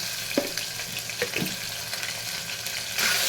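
Green chillies fry in a pan, a steady hiss and crackle with a few stirring scrapes and a brief louder surge of sizzling near the end.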